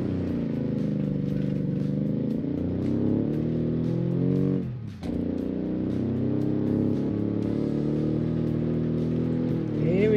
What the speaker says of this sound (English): That Boxer 6. No, it's not the Boxer 4. Sounds amazing.